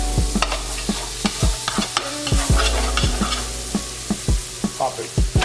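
Fried bread sizzles in a pan alongside butter, a steady hiss broken by a series of sharp scraping and tapping knocks from a utensil against the pan.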